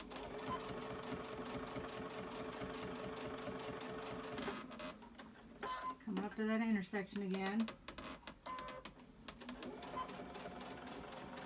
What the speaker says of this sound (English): If you need to help your sewing machine push it along, go ahead and do that.